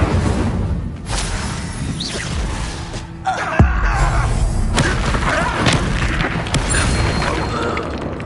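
Fiery spell blasts from a Hogwarts Legacy duel, with a sharp boom and whooshing bursts over a dense, roaring game soundscape, shouted voices mixed in.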